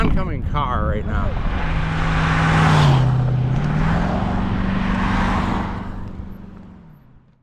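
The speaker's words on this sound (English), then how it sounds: "Oncoming car right now." An oncoming car on the US 84 highway sweeps past a tandem bicycle, rising to a loud whoosh with a droning engine tone, then fading away into quiet.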